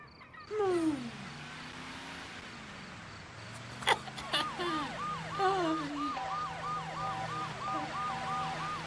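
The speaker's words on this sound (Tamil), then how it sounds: "Police siren." A police siren wails, rising and falling, then shifts into a fast repeating yelp, with vehicle noise underneath and no voices.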